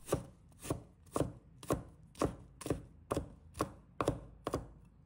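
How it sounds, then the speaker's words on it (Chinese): A knife minces smashed ginger on a cutting board, giving about a dozen sharp, evenly spaced chops that sound close and distinct in a quiet room. "把生姜拍碎，接着再改刀切成末。"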